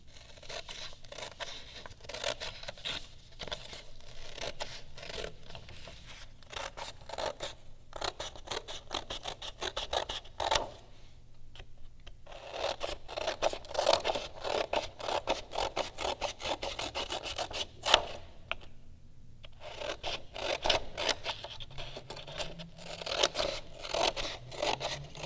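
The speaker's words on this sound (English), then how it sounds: "I like to cut with my right hand, so I turn them around, cut them out." Scissors snip through cotton fabric pieces in quick repeated crisp cuts, close and fairly quiet, with short pauses between bursts of cutting.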